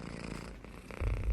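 A cat purrs up close, a brief, low, continuous rumbling that grows slightly stronger toward the end, with no voices.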